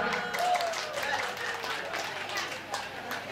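A crowd claps in steady, moderate applause at a wedding that runs through the whole clip, with some voices mixed in.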